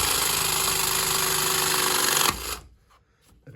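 Electric plumbing press tool crimping sockets onto copper pipe, a steady loud motorised whirr for over two seconds that cuts off abruptly, followed by faint handling noises.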